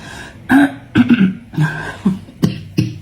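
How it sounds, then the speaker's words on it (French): A run of about six short, husky coughs and throat-clearing sounds from one person, close to the microphone, coming in quick uneven bursts. "j'ai toujours cette toux qui me chicane."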